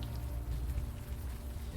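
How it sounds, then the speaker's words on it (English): Soft, steady rain in the video game Unavowed patters continuously in the East Village, a faint even hiss with low rumbling underneath and no other distinct sounds. "Still raining."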